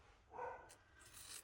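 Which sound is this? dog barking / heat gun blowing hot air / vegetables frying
dog barking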